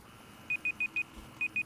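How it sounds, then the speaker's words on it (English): A digital timer goes off with six short, high, evenly spaced beeps, four in quick succession and then two more after a brief gap, clear over faint background noise. "my timer again went off and I keep getting it confused"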